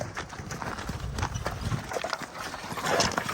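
A well-trained working mare walks along, her hooves giving a quick series of close clip-clop strikes over low rustling background noise.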